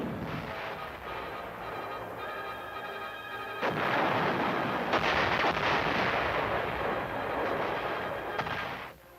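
A 106mm recoilless rifle fires on an army test range, a sudden heavy blast partway through that swells into a loud, sustained roar and rumble lasting several seconds, with steady background noise before it and no talking.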